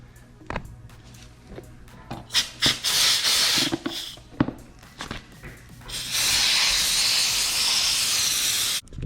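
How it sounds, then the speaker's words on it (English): Compressed air blasts from an air hose drying freshly washed parts of a 2500HD pickup truck, starting as short bursts with clicks and ending in one long, loud, steady hiss lasting several seconds. "now let's hit it a little bit with the air hose and then let it air dry"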